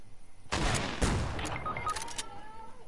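Gunfire in a shooting video game, a sudden loud volley of rapid shots followed by scattered further bursts and ringing tails that fade out.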